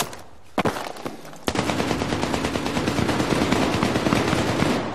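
Machine-gun fire in Battlefield 3 on PS3: after a couple of single sharp shots, a loud, sustained rapid burst rattles on continuously and close.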